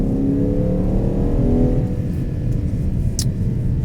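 Ferrari Purosangue SUV with its front-mid-mounted engine sitting close behind the front axle, pulling hard and revving while driving, a loud steady rising engine note that fades into broadband road and wind roar.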